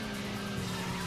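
A hatchback car skids in the video game Racing Lagoon, a brief sustained tire squeal over steady engine noise.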